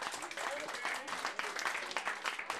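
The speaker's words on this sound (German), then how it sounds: "Und nochmal herzlichen Applaus" Crowd applause at a club summer festival, a quick patter of many hands clapping with voices mixed in beneath.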